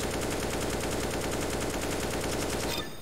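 An automatic rifle in Counter-Strike: Global Offensive fires a rapid, unbroken burst of loud shots for nearly three seconds, then stops abruptly into quiet.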